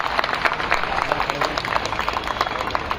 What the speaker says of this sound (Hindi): तो आप कटियार साहब के लिए फिर ताली बजाओ।